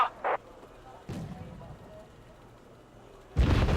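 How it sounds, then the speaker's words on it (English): A naval ship fires artillery in the war strategy game Wargame: Red Dragon, with a couple of short booms early on and a heavier, louder blast near the end, set against a quiet background. "Our ship's firing."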